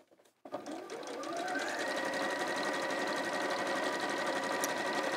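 After a brief quiet start, a sewing machine starts up and stitches a straight seam across the bottom of a project, its steady motor hum rising and holding close and clear, alone without talking.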